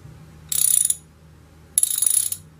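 Two bursts of rapid clicking from a socket wrench ratcheting on a nut, each lasting under half a second, close and crisp over a quiet low hum.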